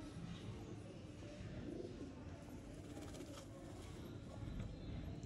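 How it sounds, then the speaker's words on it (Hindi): Pigeons cooing softly in a breeder's loft, faint low throaty coos under steady background rumble, with no clear talk. "ये लें जी दोस्तों, ये कबूतर आ गया"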